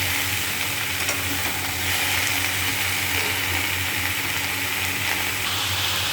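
Salted vegetables stirred in a hot pan, a loud continuous sizzle and scraping under a low steady hum, with no pauses throughout.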